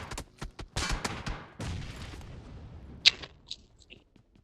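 Bomb blasts in a video game: a quick cluster of sharp booms and cracks up front, then echoing rumble fading away, with a few lighter pops and a high ping afterward.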